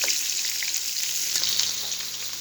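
Tandoori chicken pieces sizzling hard in a pan after being flipped, a dense, bright, continuous hiss of hot oil at close range with no voices.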